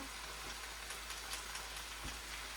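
Honey mushrooms fry in a pan with pepper and salt, giving a quiet, steady sizzle with faint crackles and an occasional soft clink of stirring.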